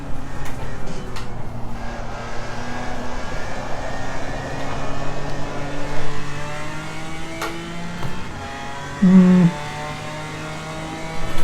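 A BMW M4 GT4 race car in Assetto Corsa Competizione revs through the gears, its engine note climbing and then dropping at each shift, with brief tyre squeal near the end under a steady in-car drone.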